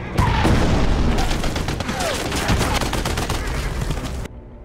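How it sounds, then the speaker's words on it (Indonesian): Dense, continuous bursts of gunfire rattle loudly for several seconds, a rapid barrage with booming impacts, then cut off abruptly. "Atami terus dihujani tembakan oleh pasukan Bruno"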